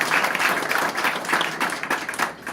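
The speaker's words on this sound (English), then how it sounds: "it does deserve a round of applause" Brief burst of audience applause at a political meeting celebrating election seat gains, dense clapping from a crowd that swells and then tapers off.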